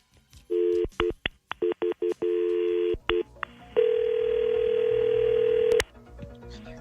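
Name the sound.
telephone dialing tones while placing a call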